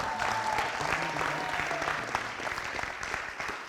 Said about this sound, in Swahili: tumpigie makofi Juliane